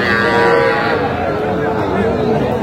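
A young heifer calf on a Tangail cattle farm lets out one long, loud, close moo that fills the moment, with faint voices in the background.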